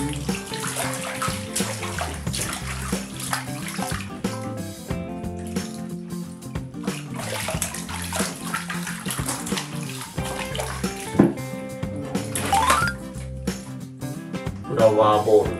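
Tap water runs into a bathtub to bathe a Jack Russell terrier, a loud, steady splashing gush that continues throughout, with a few brief louder surges and occasional faint clinks near the end.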